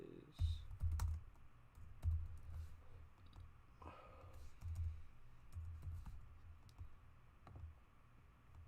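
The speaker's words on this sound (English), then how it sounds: "I need to stop typing so fast in here." Fast typing on a computer keyboard sounds as irregular bursts of soft clicks and thumps, close and quiet, with brief pauses between flurries.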